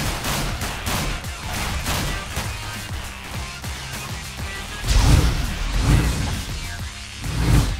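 Rapid gunfire from CS:GO at an ESEA LAN e-sports tournament, with dense bursts of shots and a few heavier blasts, loud and close, with no talking.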